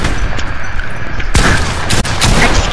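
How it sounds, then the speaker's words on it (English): A pump shotgun shot in a battle royale video game, one loud sudden blast cutting into dense, noisy game sound, followed by a brief mechanical clack, close and with no talk. "That pump shot missed"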